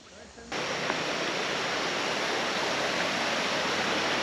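A muddy glacial river flowing down from the mountains below Kilimanjaro near Moshi roars as a steady, loud, broadband rush that sets in abruptly and continues unbroken.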